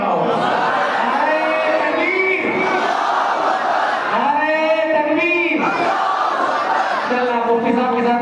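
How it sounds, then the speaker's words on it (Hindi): Large crowd chanting a religious slogan in unison at a hamd and naat gathering, loud and sustained with repeated rising shouts and overlapping voices. "मुफ्ती साहब के साथ नारा लगाएंगे।"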